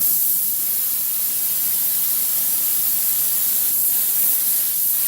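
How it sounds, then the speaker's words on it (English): A continuous loud spray hiss from an aerosol can of spray adhesive applied to seat foam in a 1966 Chevy truck, steady and close for several seconds with no pauses. "I'm going to spray this right here just to hold that foam right here in place."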